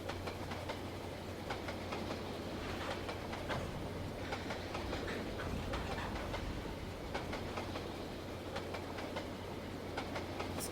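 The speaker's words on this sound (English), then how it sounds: "How much trouble this little mogul was having with that right at the beginning, when he only had maybe 15 pounds of boiler pressure." A small mogul steam locomotive on a model railway, running with low boiler pressure: steady rolling rumble with rapid clickety-clack of wheels over the track, continuous and close, with no voices.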